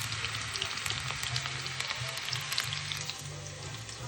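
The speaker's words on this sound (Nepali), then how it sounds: "त्यहाँबाट खोर्सानी प्याज लसुन हाल्यो हो, रातो हुनुसम्म खरायो लसुनलाई" Chili, onion and garlic sizzling in hot oil in a pan, a steady crackling fry heard up close for a few seconds, with no talking.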